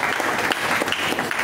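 A crowd applauds for Jesus Christ at a prophetic religious gathering, a brief steady burst of clapping close by.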